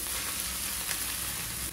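Rice stir-fried in a hot pan with crunchy vegetables for Chinese-style chicken egg fried rice, giving a steady, dense sizzle that holds without a break, close up, with no talking.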